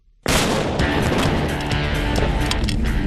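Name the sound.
explosion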